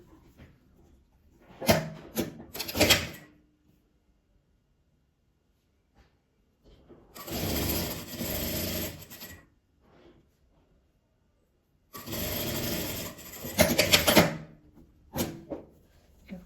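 A sewing machine joins fabric pieces in two steady bursts of rapid stitching a few seconds apart, with brief handling knocks in between, close and moderately loud, no voices.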